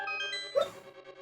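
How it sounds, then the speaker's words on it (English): A tiny little dog gives a single short, high yip, faint and brief, over steady video game music in the background. "Little pupper barks. It's like really, really tiny."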